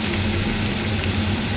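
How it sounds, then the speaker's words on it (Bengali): Carrots sizzle steadily in oil in a frying pan, a continuous close, moderately loud frying hiss with no talking over it. "গাজরটাকে ভালোভাবে ভেজে নেব"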